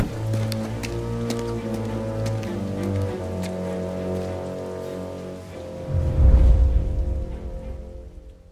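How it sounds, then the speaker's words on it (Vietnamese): Rain in the Mafia: Definitive Edition video game, a steady hiss of rain on surfaces over a low vehicle engine hum, swelling into a deeper rumble near the end. "Trời mưa nữa chứ."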